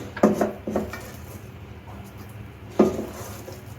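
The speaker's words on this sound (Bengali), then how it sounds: "এখন কালাকার তৈরি করার জন্য আমি মিশ্রণটা প্লেটের মধ্যে দিয়ে দিচ্ছি" Spoonfuls of thick kalakand milk mixture are scraped from a pan onto a ghee-greased plate, giving a few distinct clinks and knocks of utensil on metal, two close together at the start and another a few seconds later.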